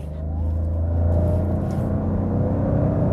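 A Toyota Hyryder G hybrid SUV in power mode revs against the held brake, a deep, steady engine rumble swelling over the first second and then holding loud and constant, with no talking.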